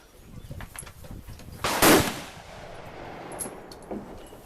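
A single sharp gunshot from an HK MR556A1 rifle at an outdoor shooting range cracks out loudly and close, standing clearly above quieter background noise.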